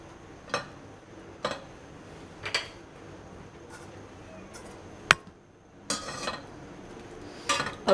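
Spoon stirring dal makhani with melting butter in a cooking pot, intermittent metallic scrapes and clinks against the pot spaced a second or so apart, close and fairly soft, with no talking.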